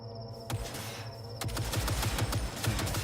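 Gunfire in Cyberpunk 2077 over a low droning background: a single shot, a pause, then a quick run of rhythmic automatic shots, close and punchy.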